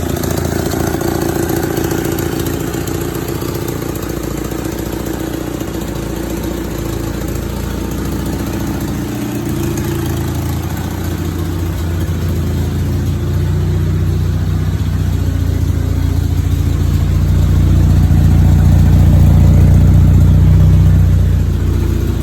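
A 1962 MG Midget engine runs continuously and loudly up close, with a rough, steady idle that rises slightly in revs toward the end.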